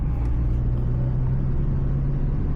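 Manual car engine pulling hard under throttle after a clutch engagement, a steady close low rumble with a constant drone and no talk over it.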